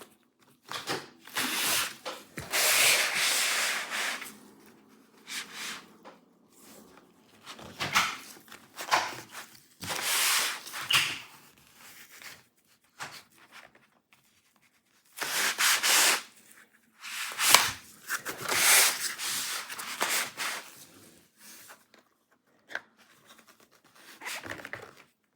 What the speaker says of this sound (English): We start releasing the locking clips of the bottom panel with a thin plastic pry tool.